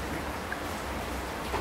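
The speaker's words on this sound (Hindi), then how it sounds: "बाहर इतना बारिश हो रहा है" Heavy rain pours outside during a cold spell in Ziro, Arunachal Pradesh, a dense, steady hiss filling the background without pause, moderately quiet and without speech.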